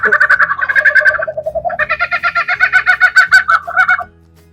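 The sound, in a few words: electronic vehicle horn sound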